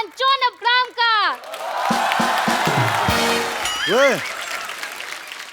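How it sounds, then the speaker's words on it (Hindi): Studio audience on a television comedy show bursts into loud, sustained applause and cheering, with whoops rising over the clapping after a host's voice at the start; a singing-like voice cuts through the crowd near the end. "जोरदार ताली से स्वागत कीजिए Varun Dhawan and John Abraham का।"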